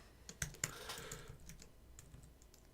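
Typing on a computer keyboard while coding, a quiet irregular run of close key clicks with a couple of sharper louder taps early on, alone without talk.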